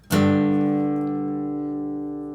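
A single plucked guitar chord of two notes, the root and fifth, rings out clearly and sustains, slowly fading over a couple of seconds.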